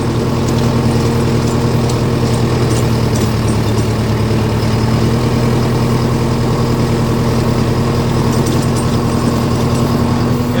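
Sonalika 75 hp tractor engine running in a field, a loud, close, steady low drone with a constant hum and no variation in pace, heard alone.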